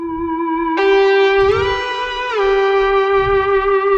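A bright, sustained synth guitar tone from a Nexus VST preset, in a future house style, holds a steady note, stepping through a few pitch changes over a soft, low rhythmic pulse.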